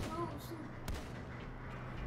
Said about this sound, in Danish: jeg skød en tankbil, der man ikke måtte skyde